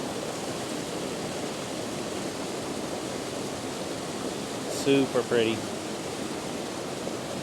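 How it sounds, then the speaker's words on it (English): River water pouring through giant culverts, five to six feet across, under a bridge on a mountain road, a steady broadband rush close by with a brief spoken remark over it. "The river's just flowing through it."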